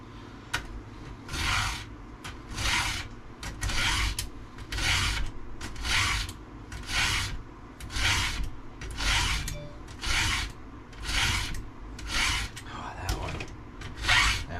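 A hand file sharpens a 36-inch archer chainsaw chain with a regular series of close rasping strokes, each about half a second long and repeating steadily, and faint talk is heard in the background.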